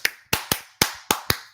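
Six sharp hand claps in an uneven rhythm, loud and close with no voices, dropped in as a sound effect.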